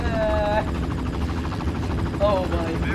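A helicopter in the Far Cry video game's abandoned carrier level, a loud steady rotor drone with a voice talking over it.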